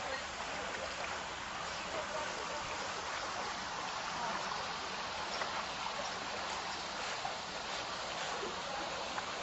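Flowing water from a large spring in Northeast Iowa near a fish hatchery, heard as a steady, even rushing hiss that stays constant throughout, with no clear speech.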